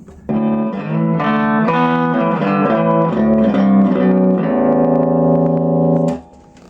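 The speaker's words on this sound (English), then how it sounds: "And an intelligent pitch shifter." Cheap bass guitar run through a Zoom B2 intelligent pitch shifter preset, a short melodic run of notes doubled by harmonized shifted tones, ending on a long held note that cuts off.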